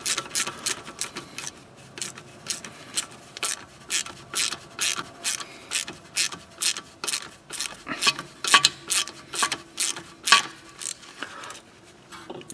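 Rapid ratchet clicks in repeated bursts as a bolt on a Chevrolet Cruze front wheel bearing is driven in, close and crisp, with short pauses between strokes.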